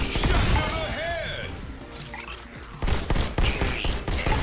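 Gunshots in the virtual-reality shooter Robo Recall crack out in a rapid cluster alongside crashing, smashing impacts and mechanical clatter, loud and close.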